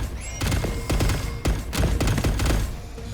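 Missile volley in the robot battle game Age of Warbots: a loud, dense run of rapid blasts and thumps rolls for most of three seconds, a few launches overlapping, with a short quieter gap near the middle.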